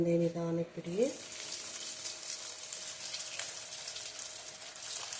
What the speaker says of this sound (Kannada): ನೋಡಿ ಎಣ್ಣೆ ಕಾದಿದೆ, ಒಂದೊಂದೇ ನಿಧಾನಕ್ಕೆ ಬಿಡಿ.